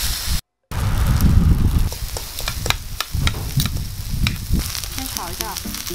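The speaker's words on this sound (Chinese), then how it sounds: "先炒一下鱿鱼圈" Squid rings sizzle and crackle as they are stir-fried on an iron griddle at a seaside cooking spot in Tasmania. The frying is loud and close, with a short break, uneven spatter and the scrape of stirring.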